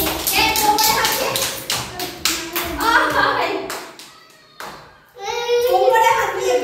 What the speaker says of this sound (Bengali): চলো, হাততালি হাততালি হাততালি।